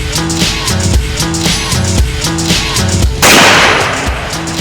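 A single sharp, loud rifle shot at an outdoor rifle marksmanship school in New Jersey cracks out about three seconds in and leaves a broad, lingering noise, following a steady rhythmic patterned background.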